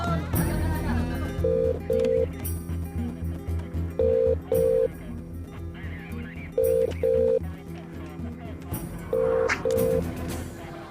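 Pairs of short, evenly pitched telephone keypad beeps repeat at regular intervals over a busy, loud background of music and noise.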